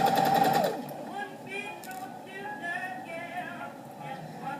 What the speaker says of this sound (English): And then start sewing with a little bit of tug.